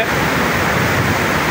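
Roaring rush of water at the Guillaume falls on the Kwango River, a dense, loud, continuous broadband wash of turbulent water churning below the drop, steady throughout with no voices.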